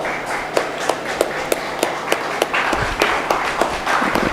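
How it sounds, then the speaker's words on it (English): Audience applause at a multidisciplinary international conference, heard as crisp, close, evenly spaced claps over a steady background of softer clapping, growing slightly fuller toward the end. "can we have a larger round of applause?"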